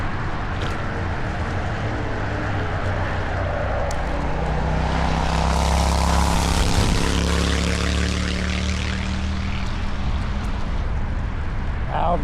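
Loud motorcycles roar past on a suburban road. A steady, heavy engine drone swells and fades, heard from a bicycle moving along the route.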